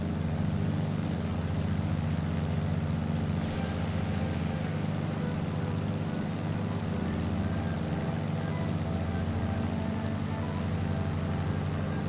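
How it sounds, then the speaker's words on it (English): Waco YMF-5 open-cockpit biplane on a ferry flight from Prescott, Arizona toward Florida in Microsoft Flight Simulator: a steady, loud radial engine drone with a deep propeller hum that holds constant throughout, with no voices. "we're on a ferry flight on the Waco YMF-5 from Prescott, Arizona to Orlampa, Florida"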